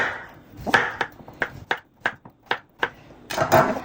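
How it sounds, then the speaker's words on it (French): A knife chops butternut squash into small cubes on a cutting board, about nine sharp, evenly spaced taps close up, with a short pause and a denser flurry of cuts at the end. "je vais commencer par couper les morceaux de courge en petits morceaux"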